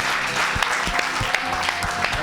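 Church congregation applauding at a worship service, with dense clapping sustained throughout and a few louder claps standing out in the crowd noise.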